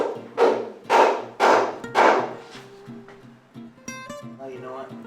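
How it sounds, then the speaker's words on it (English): Four heavy, dull thuds from a dead blow hammer on a Detroit Diesel 8V92 bellhousing, followed by lighter knocks and a faint metallic ring as the blows stop. "So we're going to give it a little tap. I'm going to get my dead blow hammer."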